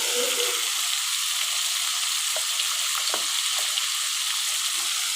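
Taki fish frying in a pan with salt, turmeric and chilli powder, a steady loud broadband sizzle with a few soft scraping stirs near the end.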